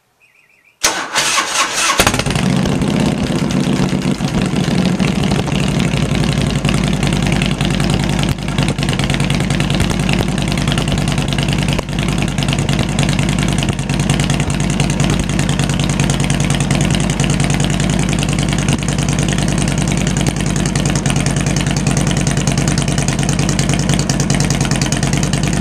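A Harley motorcycle engine cranks and fires after a brief quiet moment, then settles into a loud, steady, throbbing idle that carries on close by for the rest of the clip with no talking.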